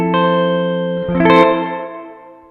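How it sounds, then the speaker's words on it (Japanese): Sustained electric guitar chords ring out through the plate setting of a Strymon BlueSky reverb pedal, a bright, smooth reverb tail, a second strum swelling in before the sound slowly decays. "さっきまで聞いてもらってたプレートはこんな感じです。"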